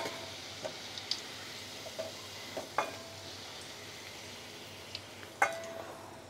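Potato pieces fry in hot oil in a pan, a soft steady sizzle with scattered crackles and pops and a few light clinks close by.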